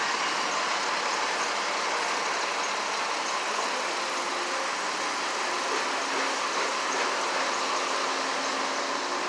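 Road traffic squeezed into a single lane at roadworks produces a steady, loud wash of engine noise and tyre roar from passing cars and trucks that keeps going without a break.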